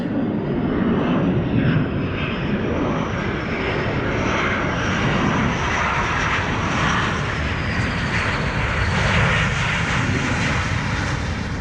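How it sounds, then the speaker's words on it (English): A jet airplane roars loudly and continuously as it comes in to land on a Navy air station runway, a broad steady engine rush with a faint rising whine. "These guys are going to land just like they would on an aircraft carrier."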